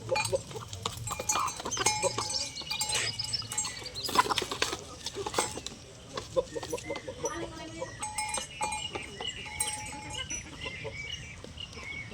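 Native country chickens on a poultry farm cluck and squawk in scattered bursts nearby, with faint human voices and farmyard bustle in the background.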